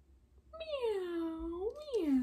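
A single drawn-out imitated meow, sliding down then rising again, sung close and clear by a voice during a virtual preschool library story time, mimicking a cat.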